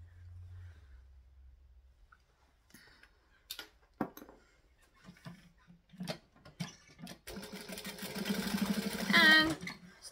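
Sewing machine stitching a seam on a sewing project, quiet rapid ticking runs in short bursts, then a denser continuous stitching whir near the end, with handling noises between.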